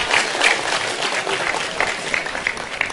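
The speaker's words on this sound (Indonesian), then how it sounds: "Tepuk tangan untuk beliau." An audience claps loudly and steadily throughout, a dense wash of many hands with slight swells, with no one talking over it.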